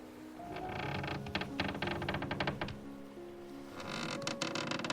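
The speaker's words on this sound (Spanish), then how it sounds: "dejándote llevar por el sonido de la madera bajo tus pies" Wooden floorboards of a ship creak underfoot in a string of irregular bursts, pausing briefly and then resuming, over a soft, steady background drone.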